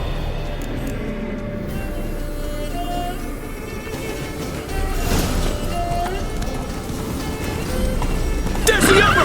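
A horse gallops in The Witcher video game, a steady rush of hoofbeats and movement that swells louder partway through, mixed with game ambience and ending in a brief sharp burst.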